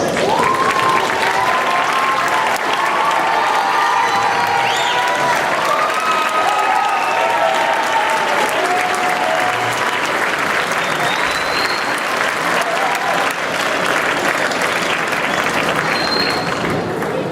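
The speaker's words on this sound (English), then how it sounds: "give a round of applause" Audience applause with some cheering at a retirement celebration of service as a couple comes up onto the stage; loud, steady clapping throughout with a few voices and whoops rising over it.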